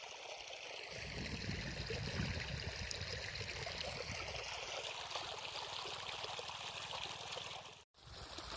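Irrigation water pours steadily into a farm field, a continuous close rushing and trickling flow that stays even throughout with no voices.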